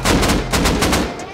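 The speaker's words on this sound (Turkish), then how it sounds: "Roket atıyor, roket atıyor." Rocket launcher shots in the survival game Rust, a loud, rapid cluster of sharp blasts and impacts packed close together, ending in a quick drop-off.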